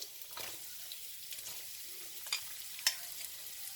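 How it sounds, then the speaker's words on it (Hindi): Onions frying in a pan for samosa chaat, a faint, even hiss of frying with a few light clinks of stirring, near and quiet, no speech. "आधे मिनट के बाद जो है प्याज डाल दें।"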